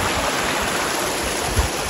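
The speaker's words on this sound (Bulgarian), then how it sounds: "Пътя ни отведе отново долу до реката." The Sokolitsa river flows nearby, giving a steady, broad rushing of water with no talk.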